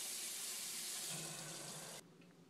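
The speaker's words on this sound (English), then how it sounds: "fill them up with water" Water from a tap gushes hard into plastic jugs in a steady, loud hiss that fills most of the moment, then cuts off abruptly, leaving a faint trickle.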